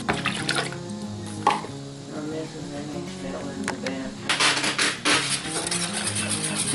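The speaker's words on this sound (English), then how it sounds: "Then I'm going to add 2 cups of water." Two cups of water pour into a saucepan of raisin filling mix with brown sugar, cornstarch and flour, a splashing trickle with clinks of utensils and bursts of running water, close and moderately loud.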